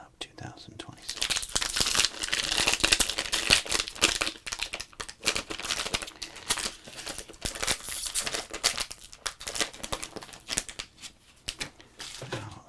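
Crinkling foil wrapper of a 2026 Topps baseball card pack being handled and torn open up close, with dense, irregular rustles and crackles, and soft whispered talk woven through.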